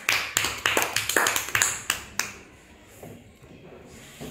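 A class of young children clapping together at school, a quick run of about a dozen sharp, close claps, then a quieter room afterward.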